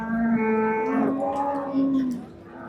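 A cow at the Qarshi livestock market gives one long, drawn-out moo close by, rising then falling over about two seconds against faint market background.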